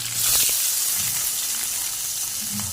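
Onions sauté in a pan with curry leaves and green chillies for Bombay chutney, a loud, close, continuous sizzle with bright hiss and occasional stirring scrapes.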